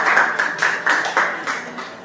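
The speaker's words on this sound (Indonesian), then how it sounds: "Terima kasih tepuk tangan buat Dewi." Classmates clap for a student named Dewi after her history presentation in an Indonesian classroom, a ragged round of hand claps coming in a few swelling bursts over about two seconds.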